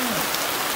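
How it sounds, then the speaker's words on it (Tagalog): Rain falls steadily on a farm with a nipa hut, a dense even patter heard close and alone throughout the short stretch. "nagpa-fog ngayon at saka umuulan"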